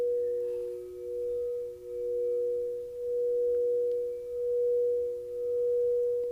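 Crystal singing bowls tuned to 432 Hz ring in a sustained, steady pure tone that swells and ebbs in slow, gentle pulses, calm and continuous with no voices.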